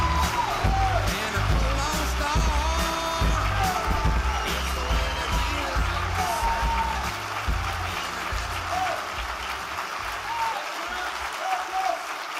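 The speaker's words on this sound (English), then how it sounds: "Give him a wonderful round of applause" A large conference crowd at the 2012 Values Voter Summit applauds and cheers Texas Senate candidate Ted Cruz, dense continuous clapping with scattered whoops that gradually thins toward the end.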